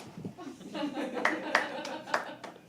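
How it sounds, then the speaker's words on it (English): A small audience at a poetry open mic claps a few times, with light, sparse hand claps and a chuckle mixed with talking. "Keep clapping."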